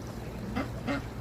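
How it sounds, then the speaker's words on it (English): Ducks quack twice in quick succession on a city waterfront in Old Town, Chicago, clear and fairly close over steady outdoor background noise. "I hear the ducks."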